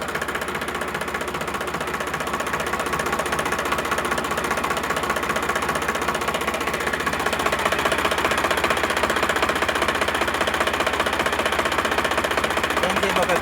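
A Sonalika DI 745 RX tractor diesel engine runs steadily at idle, a loud continuous knocking rumble close by that holds even throughout.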